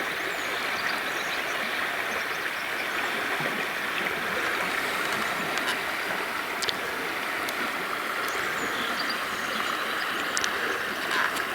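A fast-flowing river in virgin taiga rushes in a constant, loud broadband roar of churning water, steady and close, with no voices.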